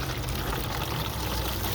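Water and liquid plant food pour steadily into a garden watering can, a continuous splashing trickle heard close up with no talking.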